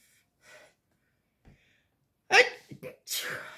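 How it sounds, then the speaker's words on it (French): A faint breath, a quick intake, then a sharp sneeze followed closely by a second explosive burst. "Je vais éternuer, je le sens."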